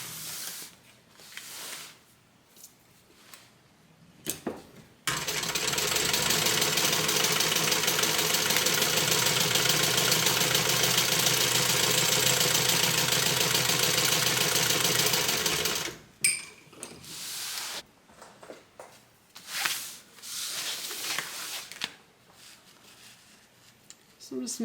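A sewing machine basts a water bottle tote bag, running steadily and loudly for about eleven seconds with shorter quiet handling sounds before and after.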